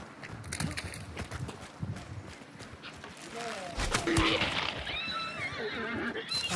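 A horse whinnies loudly over hoofbeats and game noise in the video game Hunt: Showdown while people talk throughout.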